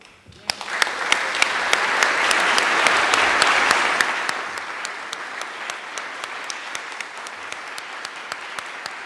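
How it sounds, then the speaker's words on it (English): An audience applauds a speaker at a ceremony, the clapping rising quickly into a full, steady round before thinning out into scattered claps toward the end. "Let us all thank him warmly and give him a round of applause."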